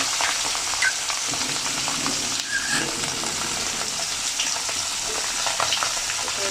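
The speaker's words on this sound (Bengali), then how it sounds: "আমি এখন একটা একটা করে মাছ দিয়ে দিই" Pabda fish fry in hot oil, a loud steady crackling sizzle that runs close and continuous with small bubbling pops throughout.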